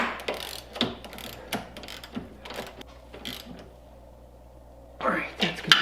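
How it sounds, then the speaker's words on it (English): A hand ratchet cinches up the bolts on the front suspension of a pre-1966 VW Beetle, clicking in quick, close bursts that pause midway and then resume. "Last thing is just to cinch up our bolts here."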